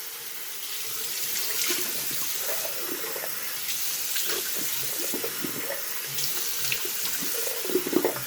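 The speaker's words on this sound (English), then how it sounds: "But hot tap water." Hot tap water runs steadily from a faucet into a sink before a shave, a continuous splashing hiss with faint clinks of movement, alone with no talking.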